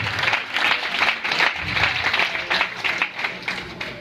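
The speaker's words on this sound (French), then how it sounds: "Acclame très fort le Seigneur, s'il te plaît." A church congregation acclaims the Lord with rhythmic group clapping that swells in regular pulses, fairly close and steady across the moment, with a faint low voice beneath.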